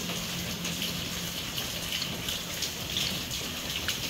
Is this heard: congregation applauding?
no